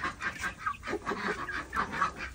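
Breeder hens cluck in short, repeated bursts at close range, a busy poultry chatter with no one talking over it.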